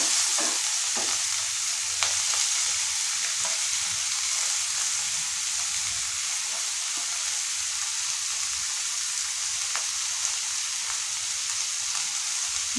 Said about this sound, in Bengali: এবার আমি এটার মধ্যে আমার কেটে রাখা পেঁয়াজটা মিশিয়ে দেব